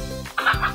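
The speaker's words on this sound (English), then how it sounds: "Right, a chicken." A chicken gives a short throaty cluck, a single brief call heard close and clear among farm animal sounds.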